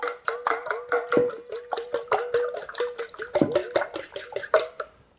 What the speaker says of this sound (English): And then just with a fork, lightly beat it.